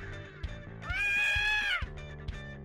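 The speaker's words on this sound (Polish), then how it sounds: "Czemu krzyczysz?" A person screams shrilly in a school prank scene, a sustained high-pitched cry of about a second rising out of quieter background sound, close and loud.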